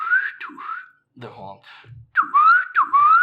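A person imitates gang whistling heard from below a crumbling church, with rising and falling whistled calls in short bursts. Speech breaks in between the whistles.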